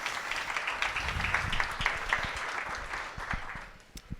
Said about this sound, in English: I get a round of applause for our panelists to start off,